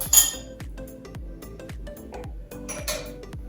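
A spoon scrapes and taps against a metal sieve, pressing dry gingerbread cake ingredients through it, with a steady run of close, bright metallic clinks and scrapes about every third of a second.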